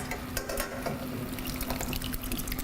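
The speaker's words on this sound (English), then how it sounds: "we're gonna pour it right over our seared elk medallions" Orange cranberry sauce is poured over seared elk medallions in a pan, a steady liquid splashing and sizzling patter that runs continuously at close range.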